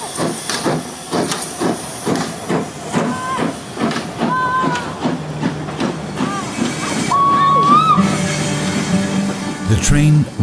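Steam locomotive on an 11-kilometer standard gauge railway built in 1927 in the Netherlands, chuffing in a rhythmic beat with hissing steam, clanking, and brief whistle tones, building louder toward the end.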